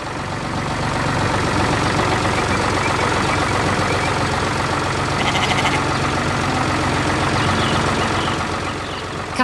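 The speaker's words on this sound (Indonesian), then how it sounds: "Dengan suara mesin yang tenang, traktor itu menggerakkan tanah dan menanam kehidupan baru." A tractor's heavy engine rumbles steadily throughout, loud and close, with a dense mechanical drone and faint intermittent beeping.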